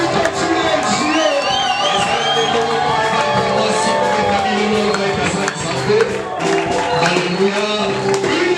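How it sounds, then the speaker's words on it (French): A church congregation at a Sunday service cheering and shouting with joy, a loud, continuous crowd roar with whoops and high voices layered over it. "Alléluia. Il mérite nos acclamations ce matin."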